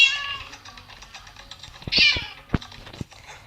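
A cat meows in the video game Minecraft with a few short, close mews, mixed with faint keyboard typing clicks and no speech.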